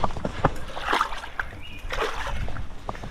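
Water splashes and sloshes out of an open container outdoors, a few short spattering bursts over about three seconds with light handling noise.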